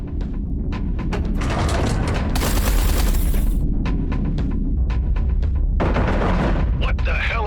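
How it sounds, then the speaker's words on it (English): Heavy artillery fire against a carrier in the space-combat game Everspace 2, with dense rumbling booms and bursts of gunfire filling the whole stretch, loud and continuous. "Eduardo, concentrate artillery fire on Blakemore's carrier."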